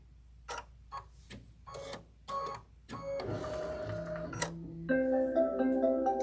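An embroidery machine sews a triple stitch in short mechanical bursts of rapid clicking and whirring, then settles into a steadier stitching rattle with tonal motor whine, close and moderately loud.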